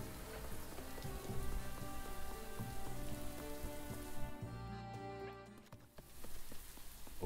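Steady rain patters on a surface throughout in the video game Little Goody Two Shoes, with scattered drips and a soft layered background tone that briefly thins near the end.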